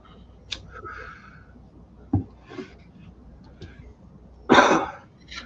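Coughing from a person during a casual smoking session: a couple of sharp coughs and throat-clearing bursts, the loudest near the end, spaced apart over a quiet room background.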